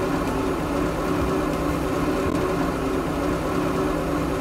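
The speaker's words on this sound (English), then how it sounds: "Here's a video of the engine installed and running." A repaired 350 Chevy engine, fixed at a cracked cast-iron starter mount, idles steadily in a boat, an even mid-pitched rumble held at constant loudness with no voices.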